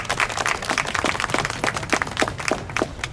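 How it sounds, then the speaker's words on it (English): An audience at a Lions Club installation ceremony gives a round of applause, many sharp individual claps in a busy, uneven rhythm, moderately loud and without speech. "Let's welcome with a round of applause for our immediate past president of Berkeley Makalu, Lion Rajendra Mukhia."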